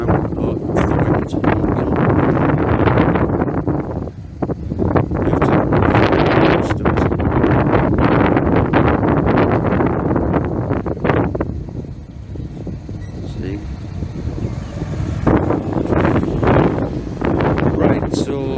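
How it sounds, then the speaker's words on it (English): Wind buffeting a microphone outdoors beside apartment buildings on Linthorpe Road, Middlesbrough, a loud continuous broadband roar with gusty surges that ease briefly in the middle before picking up again. "Oh, it's the wind."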